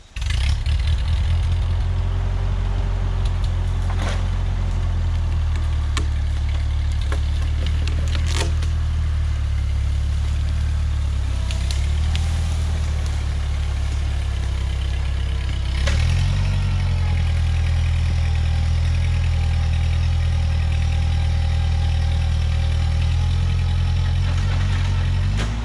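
An old Ford 9N tractor engine idles in the woods, a low steady chugging rumble close by, with a slight rise in revs partway through and small knocks and rattles over it.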